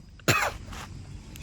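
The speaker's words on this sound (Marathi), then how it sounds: "अरे देवा, खोकला" A single loud cough breaks out abruptly, close to the listener, during an overnight stop on a Narmada Parikrama pilgrimage walk, followed by faint breathing and low background noise.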